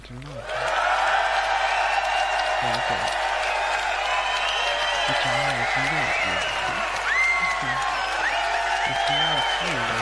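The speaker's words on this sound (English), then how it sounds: "As you can hear, we've got a great crowd here in London" A large audience at the Hammersmith Apollo in London cheers and applauds continuously during a live gaming press conference, with loud crowd roar and whoops sustained throughout while a voice talks over it.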